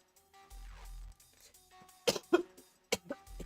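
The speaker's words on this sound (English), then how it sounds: "Cough's getting worse." Several sharp coughs in quick succession, the first two close together and another a moment later, after a few quieter sounds.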